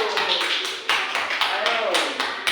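A small group in a classroom claps for a group of students, a few short uneven bursts of hand claps with voices mixed in, close and fairly loud.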